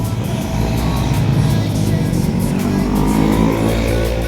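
Steady car traffic rushing past on a highway in Sala, Cabuyao, a loud continuous roar of engines and tires with no talking.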